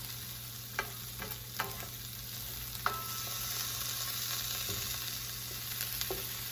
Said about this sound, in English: There's still some oil in the pan, and that's going to be what browns these.